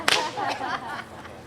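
A single sharp bullwhip crack snaps right at the start of a Western museum demonstration, then fades into a noisy, reverberant crowd murmur.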